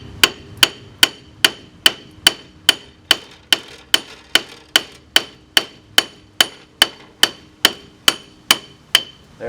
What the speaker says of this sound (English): So take a hammer.